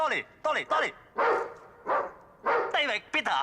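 Dogs in a Cantonese comedy film scene let out short, separate barks and yelps, mixed with a man loudly calling out names.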